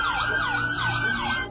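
Police car siren wailing during a chase, a loud, close, continuous sweeping wail rising and falling in repeated cycles over a low road rumble.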